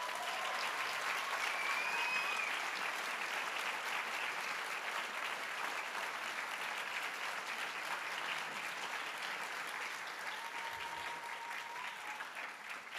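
Sustained audience applause at a welcome ceremony, honoring two professors receiving a students' choice teaching award; steady, dense clapping from a large crowd continues evenly throughout.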